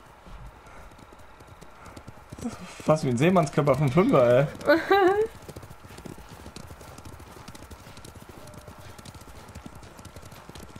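Horse hooves clip-clop in the Ghost of Tsushima video game, a quick, loud burst of hoofbeats with a brief whinny, while someone talks over the game sound before and after.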